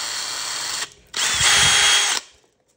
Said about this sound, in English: So let's just drill a little hole here.